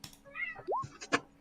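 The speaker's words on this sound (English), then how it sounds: "every time I hear Tiny Scat meows" A cat gives a short rising meow near the middle, with soft scuffs and a brief sharp noise around it, close and fairly quiet with no speech.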